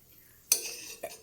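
Raisins stirred in hot ghee in a pan for a healthy payasam: a sharp clink of a spoon against the vessel, then a softer scrape and sizzle a moment later, close and alone.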